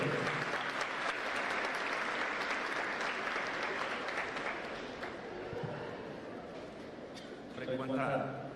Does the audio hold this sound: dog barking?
no